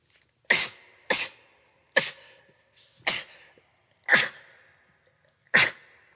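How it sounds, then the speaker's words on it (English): Six sharp allergy sneezes burst out one after another at uneven intervals, close and loud, with quiet breaths between. "I sneeze a lot. I'm sorry."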